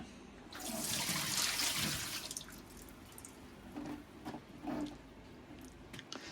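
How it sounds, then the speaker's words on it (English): Used vinyl record cleaning solution is poured away down a drain, a close, loud rushing gush for a couple of seconds that breaks into scattered splashes and drips as it empties, with no talk. "And I'm going to pour this solution away."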